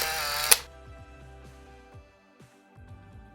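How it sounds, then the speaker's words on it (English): A single sharp shutter click from a smartphone mounted on a DJI OM 5 gimbal, close and brief, followed by quiet background music. "Tap the shutter button to take a photo."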